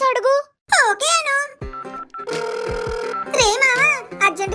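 A telephone rings in a short, steady burst lasting about a second, set between high-pitched, squeaky cartoon voices talking before and after it in an animated Telugu comedy scene.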